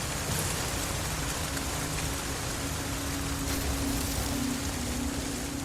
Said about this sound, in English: What's that rain sound?